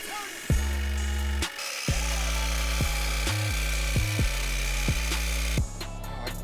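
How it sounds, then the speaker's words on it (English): A jigsaw cuts through a Dodge Promaster van's metal roof, buzzing steadily in short runs, stopping and restarting about eight times, loud and close, with a harsh mechanical whine. "drill a couple pilot holes so we can get the jigsaw blade started in the roof"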